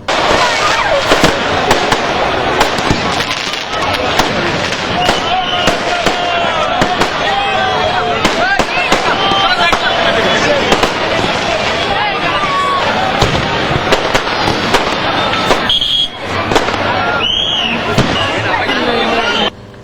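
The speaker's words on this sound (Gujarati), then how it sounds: "ભવ્ય આતશબાજીથી વડોદરાનું આકાશ ઝળહળી ઉઠ્યું હતું." A grand fireworks display bursts over the sky of Vadodara at the close of a royal procession, with dense, continuous loud crackles and bangs over crowd chatter.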